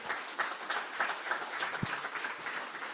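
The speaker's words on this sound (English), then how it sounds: "I want to give a warm applause to our speakers again" Moderate applause from a conference audience at an industry forum, a close, even patter of many hands clapping with no voices over it.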